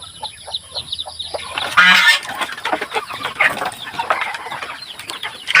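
Hen with a brood of eleven newly hatched chicks clucking and cheeping in a backyard poultry yard, with geese and ducks nearby; steady close chick peeps and soft clucks run throughout, joined by a louder honk-like burst midway.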